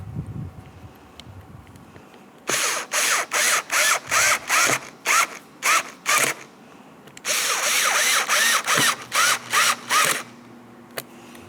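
A power screwdriver drives two Phillips head mounting screws into the liftgate handle garnish of a 2004-2005 Scion xB, giving two loud runs of short, rhythmic whirring bursts separated by a quiet pause.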